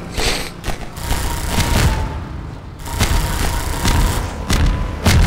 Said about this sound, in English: Yes, explosions.